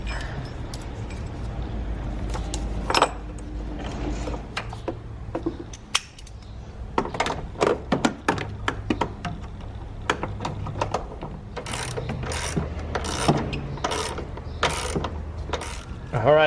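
A battery hold-down clamp is fitted and tightened in a 2014-2019 Kia Soul, with irregular metallic clicks, clanks and ratcheting taps coming close and sharp, denser toward the end.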